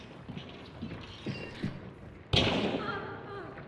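An enemy climbs stairs in Hunt: Showdown, with a few soft, evenly spaced footstep thuds nearby, followed by a sudden louder impact and rumbling noise.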